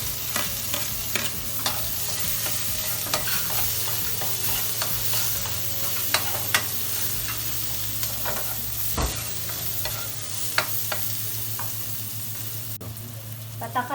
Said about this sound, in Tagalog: Pag mainit na ang kawali at mantika, gisahin ang bawang